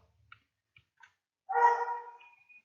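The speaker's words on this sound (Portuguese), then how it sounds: "Meu cachorro já começou de novo." A pet dog lets out a single loud bark after a few faint ticks and small sounds, the bark trailing into a short whine, close to the microphone in an otherwise quiet room.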